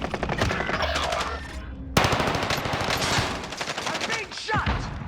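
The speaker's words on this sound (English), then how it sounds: "I'm being shot!" Call of Duty gunfire striking the player: bursts of rapid automatic fire, loud and close, with a sharp impact and continued rattling shots followed by a sweeping whoosh.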